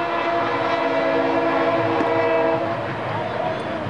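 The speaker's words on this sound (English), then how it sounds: "that noise you hear in the background is the great train going through London." A train passes near a baseball field in London, its horn sounding as a sustained, loud, droning tone over the rumble of the cars, steady throughout with faint crowd noise beneath.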